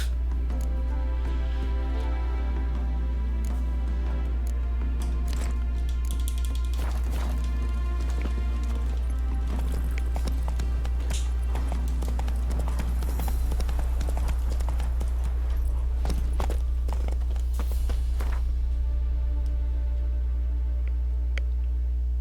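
Horse hooves clip-clop at a steady galloping rhythm in the video game Witcher 3, loud and continuous over a constant low game drone and music, with a brief spoken word near the start.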